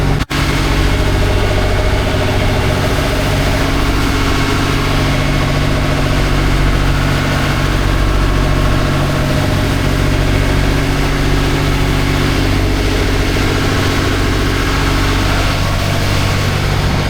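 A fishing boat's engine drones steadily and loudly throughout, low and continuous, with no voices over it.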